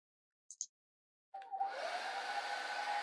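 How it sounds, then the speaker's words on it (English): A digital hairdryer sound effect: two quick soft clicks, a pause, then a steady airy whoosh with a faint motor hum that starts abruptly and continues evenly to the end. "we've got our hairdryer sound effect playing"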